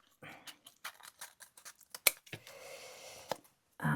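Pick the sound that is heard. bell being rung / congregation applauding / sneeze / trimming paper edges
trimming paper edges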